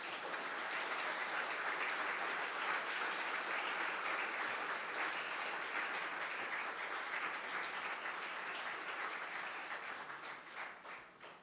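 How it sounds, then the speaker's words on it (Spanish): A church congregation applauds, a dense, steady wash of clapping that continues evenly before thinning out and fading at the end. "Dale un aplauso al Señor"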